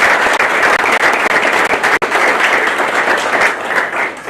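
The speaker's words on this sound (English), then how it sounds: "Round of applause." A luncheon crowd breaks into a loud, close round of clapping that stays dense and steady, with a brief dip midway and a slight fade at the end.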